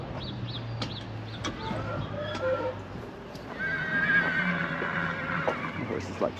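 A horse whinnies repeatedly in a farmyard with sheep, its neighs rising and falling between clip-clopping hooves, rooster crows and clucking hens, while a person talks nearby.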